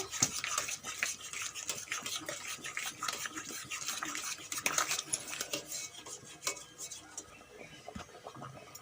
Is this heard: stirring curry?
yes